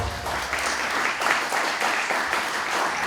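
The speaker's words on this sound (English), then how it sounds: "If we could give them a round of applause as well." A crowd at an MLK celebration day event claps for volunteers, a sustained, even roar of applause from many people in a hall, moderately distant and continuous for the whole stretch.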